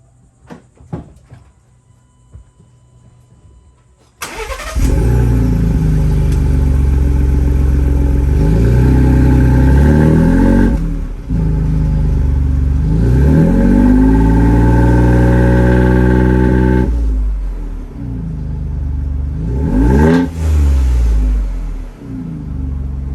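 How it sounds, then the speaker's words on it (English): A 2021-2023 Ford Bronco fitted with a Flowmaster American Thunder exhaust fires up after a few quiet seconds, then rumbles loud and close, blipping the throttle in several rising and falling revs with deep burbling between them. "here's a sound test with the iPhone microphone"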